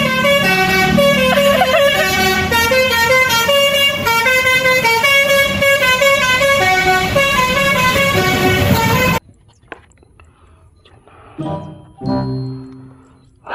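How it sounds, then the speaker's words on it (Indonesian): A Persija Jakarta bus sounds a loud, sustained multi-tone horn melody for about nine seconds, the rippling notes cutting off abruptly, followed by quieter traffic rumble and a brief closer burst. "Kali ini ada bus Persija Jakarta teman-teman."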